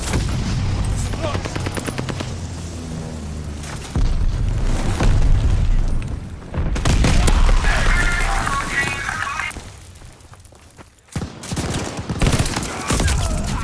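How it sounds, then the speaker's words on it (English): Call of Duty: Vanguard multiplayer combat: loud bursts of gunfire and booming blasts, including a stun grenade detonation, crowd a dense battlefield mix with brief pauses and shouted voices over the din. "Stun grenade!"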